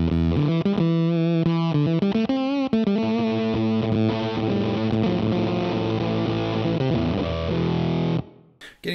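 Electric guitar through a Roy Electronics Fantasio fuzz pedal set to a lo-fi fuzz tone: loud, buzzy distorted notes and chords ring continuously for about eight seconds, then cut off abruptly.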